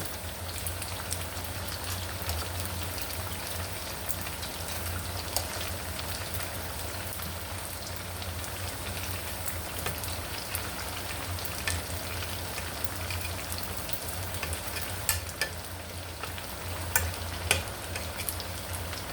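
Dumplings frying in a pan of oil on a stove, a steady close crackling sizzle that runs unbroken with a few sharper pops and no talking.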